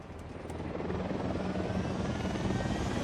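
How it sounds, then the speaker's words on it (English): A helicopter from the video game Ghost Recon Wildlands drones steadily and loudly, its rotor noise swelling slightly over three seconds with no speech. "Helicopter."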